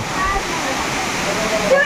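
Constant rushing roar of a waterfall pouring into a pool at Marleshwar temple in Konkan, loud and close, with people talking over it.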